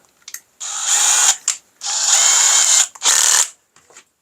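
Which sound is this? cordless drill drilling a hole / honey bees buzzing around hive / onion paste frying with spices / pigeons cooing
cordless drill drilling a hole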